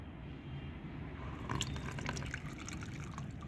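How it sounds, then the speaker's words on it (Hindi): Fermented homemade liquid plant fertilizer is strained, its liquid trickling and dripping softly at close range, with a brief louder splash of pouring partway through. "पहले हमें इसे छानना है।"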